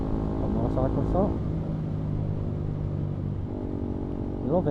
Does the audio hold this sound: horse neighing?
no